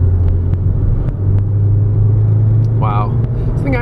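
A 2014 Nissan Sentra SV accelerating on the road, a steady low engine drone and road rumble from inside the cabin, with a voice speaking over it near the end.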